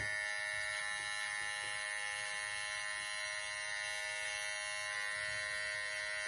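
A handheld electric hair trimmer buzzes steadily while tidying the hairline up and around the ear, a close, continuous high-pitched hum with many sharp harmonics that hardly varies from start to finish.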